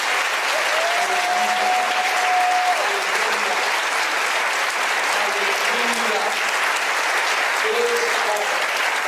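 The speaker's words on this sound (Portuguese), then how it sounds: "Dê um forte aplauso nesse momento." Congregation in a church applauding loudly and steadily throughout a pastoral recognition service, while a voice speaks or calls out faintly over the clapping.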